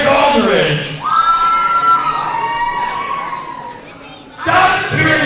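A wrestling arena crowd at a championship wrestling show cheers and shouts loudly, with a sustained roar and voices rising above it, then a renewed swell of noise at the end.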